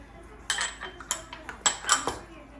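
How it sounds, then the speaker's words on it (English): A spoon stirs chili cornbread batter in a bowl, with several distinct clinking scrapes against the bowl in an irregular rhythm, close and fairly clear. "we'll just continue to stir until we get all of that fully incorporated into the mixture"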